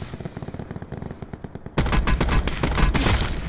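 Sniper gunfire in a multiplayer shooter video game: a rapid ticking rhythm gives way to a sudden loud, dense burst of shots and impacts that keeps going, with no talking.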